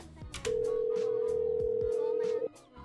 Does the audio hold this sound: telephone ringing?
yes